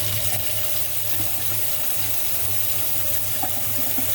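Water gushes from a newly installed single-handle kitchen faucet into the sink, a steady close hiss that holds evenly throughout with a low hum beneath it.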